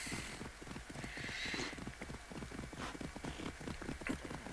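A horse's hooves clip-clop in a quick, steady rhythm during riding in Assassin's Creed Odyssey, with a brief whinny and soft ambient background, moderately close and continuous.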